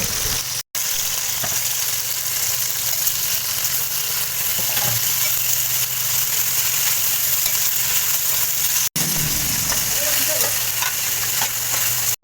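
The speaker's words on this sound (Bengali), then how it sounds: "এবার যেই চিকেনগুলো আগে থেকে ম্যারিনেট করে রেখেছিলাম সেই চিকেনগুলোকে এবার ভেজে নেব।" Marinated chicken fries in white oil in a wok, a loud, dense, unbroken sizzle heard up close, with faint stirring movements underneath and no voices.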